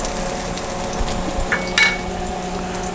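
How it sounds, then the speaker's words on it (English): Ginger sizzles in hot oil in a wok while cooking Chinese Dungeness crab, a steady close frying crackle with a few stirring scrapes and clinks partway through. "So should be sizzling."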